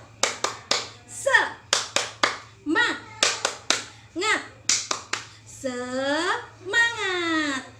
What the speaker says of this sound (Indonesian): kita akhiri dengan tepuk semangat